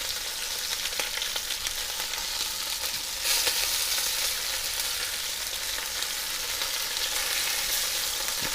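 Vegetables frying in a pan still holding the fat from seared beef short ribs, a steady, close, bright sizzle with a few stirring knocks and a brief surge partway through, no talking.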